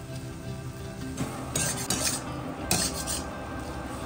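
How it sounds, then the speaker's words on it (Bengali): A utensil scrapes and clinks against a pan as boiled potato is mashed into a tomato masala for egg curry, with several sharper metallic knocks over a low background hum. "এবার এর মধ্যে সিদ্ধ আলুটা এরকম করে ম্যাশ করে দিতে হবে।"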